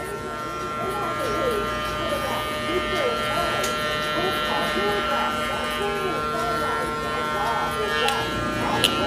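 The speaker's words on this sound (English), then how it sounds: "if you want to open up the clipper to kind of continue just stretching out the haircut" Electric hair clipper buzzing steadily up close while fading a men's comb over haircut, a continuous motor whine with slight shifts as the blade moves through hair.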